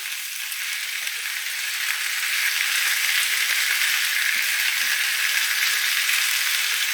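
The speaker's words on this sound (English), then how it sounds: "And just keep that stirring and frying." Steady broadband sizzling of vegetables and chicken stir-frying in a pan, with occasional soft scraping as they are stirred; no voices.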